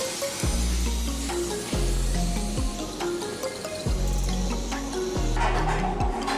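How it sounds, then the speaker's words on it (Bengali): Potatoes frying in hot oil for Bengali-style aloo fries, a steady close sizzle and crackle with regular low knocks every second or so, no voices. "আমি হালকা করে প্রত্যেকটা আলুগুলো আমি ভেজে নেব"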